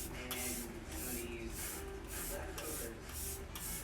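Makeup setting spray is misted in a rapid series of short hissing bursts, about eight evenly spaced sprays, close and fairly loud over a steady background.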